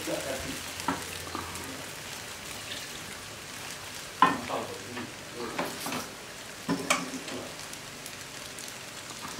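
Thin crispy batter for dadar kriwis sizzles in a pan with only a little oil, a steady close crackle broken by sharper spatters and stirring taps, with no talk over it.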